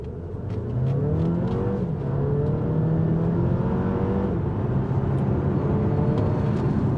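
A 2024 Alfa Romeo Tonale Veloce turbo plug-in hybrid pulls away at full throttle on a slight uphill. Its engine note climbs steadily in pitch and stays loud and close throughout, with no talking.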